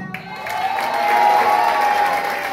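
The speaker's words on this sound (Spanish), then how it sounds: "Fuerte aplauso para Julieta Migueles" Audience applause at a Frente Grande political party event as new officials are introduced, a swelling wash of clapping with some cheering from a crowd, steady and loud, a high tone ringing through it.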